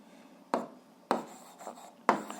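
Pen strokes scratching on paper while working an eighth-grade algebra exercise, three or four short distinct scrapes spaced about half a second apart, close and quiet with no talk.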